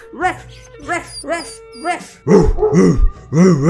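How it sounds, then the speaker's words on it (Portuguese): A small dog barks repeatedly and close by, first a few separate yips, then a rapid louder run of barks. "Um cachorrinho que eu adotei!"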